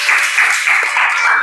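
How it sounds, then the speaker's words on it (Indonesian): A classroom of high school students applauds a presenting group in an economics class, a brief, dense burst of clapping that fills the room. "Tepuk tangan untuk kelompok 3."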